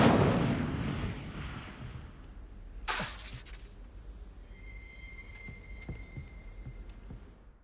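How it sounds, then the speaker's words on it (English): A fire spell in Hogwarts Legacy erupts with a loud rushing blast that fades, followed by a sharp crackling burst and lingering ringing, sparkling shimmer with scattered small pops and clicks. "Incendio!"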